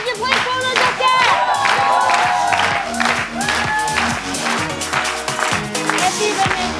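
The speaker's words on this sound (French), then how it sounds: "S'il vous plaît, les gars, on applaudit pour elles." A live-event audience applauds and cheers as performers come up on stage, with dense steady clapping and crowd noise lasting throughout, loud and close, with music-like tones mixed in.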